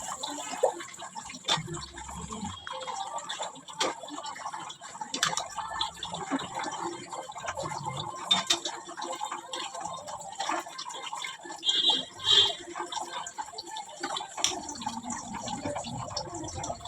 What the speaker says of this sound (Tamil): கொஞ்சம் வந்து பச்சை தண்ணியை ஆட் பண்ணிவிட்டு கொதிக்க விட வேண்டியதான் இனிமேல்